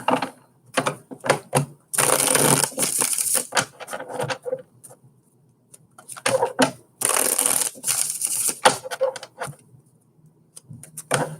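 Tarot cards are riffled and shuffled repeatedly in several loud bursts separated by short pauses, with quicker flicks and taps between them; very close.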